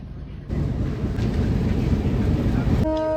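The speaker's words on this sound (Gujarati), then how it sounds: "અત્યારે ટ્રેન આવી રહી છે" A heavy, steady rumble of a train pulling into Talaja railway station nearby, with a short horn-like tone at the very end.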